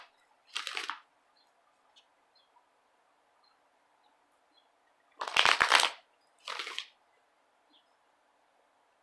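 Tarot cards are shuffled in three short riffling bursts, one early and two close together near the end, with quiet gaps between them and no talk.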